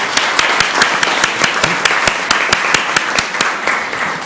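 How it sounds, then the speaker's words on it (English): Loud, evenly timed clapping at about five claps per second, close by, over a dense wash of crowd noise at a city council meeting. "please stand up and let us give you a round of applause"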